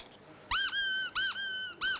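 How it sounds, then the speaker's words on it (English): A rubber squeaky toy squeezed in three bursts, each a bright, loud two-note squeak, the quacking honk rising and falling, with brief gaps between them and no speech over them. "Squeaky toy, just keep on squeaky."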